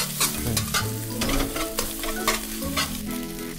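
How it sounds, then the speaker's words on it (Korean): Chopped scallion and shrimp being stir-fried in a pan over moderate heat: a continuous close sizzle with scraping and stirring clatter throughout. "아까 볶아놓은 다진 파하고 새우를 넣고, 일단 너무 세지 않은 불에 재료가 잘 섞이게 볶아주세요."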